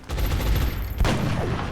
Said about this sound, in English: Now let's see if the sniper can hit that precision shot with an 89.